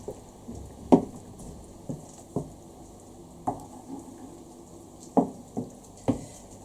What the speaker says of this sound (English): So try to stir that all together.